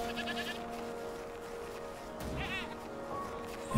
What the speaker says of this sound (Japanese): ヤギがいっぱいだな。